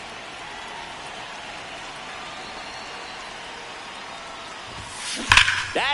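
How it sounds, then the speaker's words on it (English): Steady rain falls on a ballpark in MLB The Show 26, a constant soft hiss throughout, ending in a sudden sharp crack and thump near the close. "This rain is not letting up."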